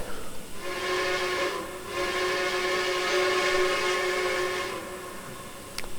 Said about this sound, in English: pretty nice whistle sound. I do like it.